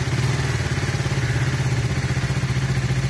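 A KTM Duke motorcycle with a worn-out clutch drones steadily at a near, loud, even pitch with a fast rhythmic pulse while the throttle is worked, the engine note barely changing.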